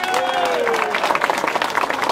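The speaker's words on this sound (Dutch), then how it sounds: "U daarvoor applaus voor Maaike Polsenbroek." Crowd applause at the finish of a women's UCI 1.2 cycling race in Erondegem, honoring the winner: brisk, continuous clapping from spectators outdoors, with crowd noise and a faint voice underneath.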